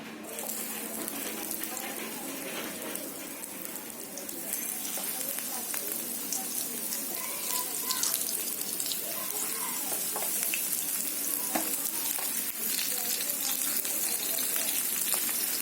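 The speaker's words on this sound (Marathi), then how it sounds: "आता एक एक करून आहे ना त्याच्यामध्ये तेलामध्ये सोडायचा." Semolina-coated stuffed mackerel (bangda) frying in hot oil over a low flame, a steady close hiss and crackle with watery spluttering that swells slightly partway through; no voices.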